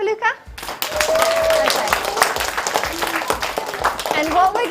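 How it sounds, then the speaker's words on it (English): A group of children clap for a boy named Luca at a storytelling session, a dense burst of applause with an adult voice speaking over it near the end. "Can we clap for Luca?"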